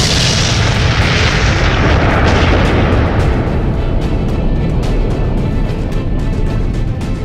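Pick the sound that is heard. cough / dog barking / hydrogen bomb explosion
hydrogen bomb explosion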